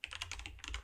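Rapid keystrokes on a computer keyboard, a quick close burst of several clicks in an uneven rhythm with no voices.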